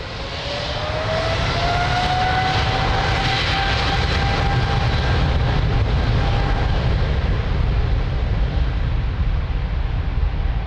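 An airliner takes off from runway 02 at Lisbon Airport, a loud, sustained jet engine roar with a rising whine that builds quickly and holds powerfully throughout.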